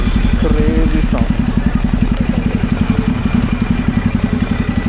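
Ducati Multistrada 950 with a Termignoni full-system exhaust idling close by, giving a loud, deep, steady lumpy pulse with fast rhythmic thumps.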